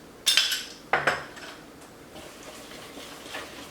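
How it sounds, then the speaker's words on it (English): A small spoon knocks twice against a bowl of buttermilk pancake batter, two sharp clinks close together near the start, followed by quieter faint scraping as the mixing continues. "Take a little spoon, mix it up."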